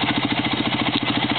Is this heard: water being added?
no